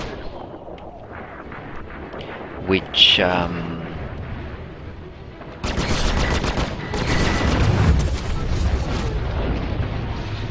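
Neutron Cannon laser cannons on a Super Hornet in Star Citizen fire in heavy booming bursts, a single blast early and then a sustained roaring barrage, with someone talking over it.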